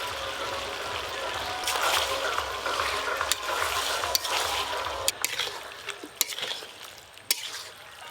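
Spice paste of ground cumin and dried red chilli with turmeric, chopped tomato and salt frying and being stirred in a pan; steady sizzle with scraping strokes and a few sharp clinks of a spoon against the pan, no talk.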